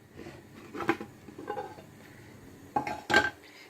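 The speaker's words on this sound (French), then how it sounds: "je vais renverser dans une assiette et la remettre pendant quelques secondes" Clinks and scrapes of a frying pan and plate as a pan-cooked chocolate sponge cake is flipped over, a few short, close knocks separated by quiet gaps.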